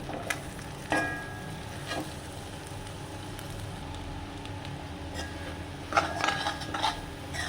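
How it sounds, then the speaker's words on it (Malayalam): A beef roast fries in thick masala while being stirred, with a low sizzle underneath and occasional sharp spoon scrapes and clatters against the pan, the loudest near the end. "നമുക്കിതൊന്ന് ഇളക്കി കൊടുക്കാം"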